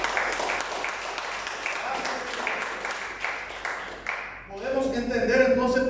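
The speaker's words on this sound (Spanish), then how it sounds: "Los aplausos son para Cristo." Church congregation applauding, a close, uneven clatter of many hands for several seconds that fades and then gives way to a voice speaking.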